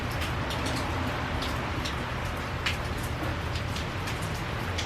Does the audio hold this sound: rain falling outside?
yes